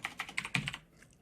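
Keys clack on a computer keyboard in a quick burst of about eight crisp, close strokes, irregularly spaced, followed by a near-silent tail. No one speaks.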